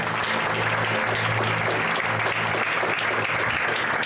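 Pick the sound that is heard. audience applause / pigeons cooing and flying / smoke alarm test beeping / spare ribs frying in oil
audience applause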